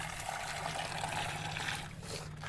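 Water poured into a container for pigeons, a steady close trickle and splash running throughout over a low hum, tapering off slightly near the end.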